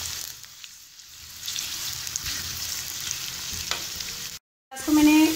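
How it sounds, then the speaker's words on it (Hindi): Chopped onions frying in hot oil in a pan, a steady loud sizzle with occasional stirring, close up, followed by a brief gap and a louder burst of sizzling. "अब हम इसके अंदर प्याज ऐड कर देंगे और प्याज को हम अच्छे से फ्राई कर लेंगे।"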